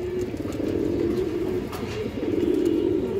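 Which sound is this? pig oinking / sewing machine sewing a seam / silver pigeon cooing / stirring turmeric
silver pigeon cooing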